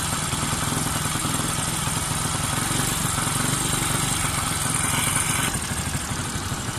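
A Bajaj Pulsar motorcycle engine idles close by with a steady, loud mechanical chug and clatter that holds throughout.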